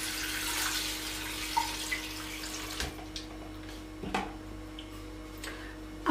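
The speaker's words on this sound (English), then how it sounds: "So I have to pour in my water." Water poured into a pot for a chicken pasta casserole, a continuous splashing rush early on, followed by a few clicks and knocks against a low background hum.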